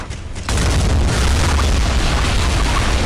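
USS Missouri battleship cannon fire in the Modern Warships naval game: a sudden loud boom rolls in after a short quiet gap, then a heavy sustained rumble with deep low-end energy holds steady to the end, with no talk.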